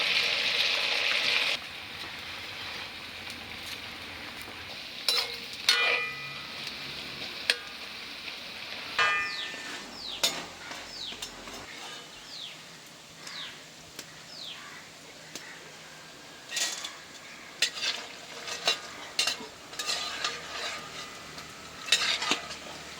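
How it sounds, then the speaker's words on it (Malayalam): Vada made from leftover idli batter frying in hot oil, a soft steady sizzle under repeated scrapes and clinks of a metal spoon stirring and lifting pieces, close by in a home kitchen. "ഇതേപോലെ നമ്മളുണ്ടാക്കിയിരിക്കുന്ന മാവ് ഇതേപോലെ വറുത്ത് കോരണം"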